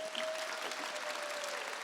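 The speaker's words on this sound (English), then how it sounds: "Can we clap it up for ourselves?" Graduates and audience at a Pittsburgh Westinghouse commencement ceremony clap together in a dense, even burst of applause, moderately loud and sustained.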